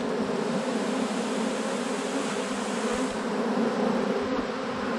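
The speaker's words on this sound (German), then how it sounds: "Hier ist der Großteil der Bienen" A swarm of honeybees being caught from a bush and moved into a box buzzes loudly and steadily, a dense, close, unbroken drone with no talking.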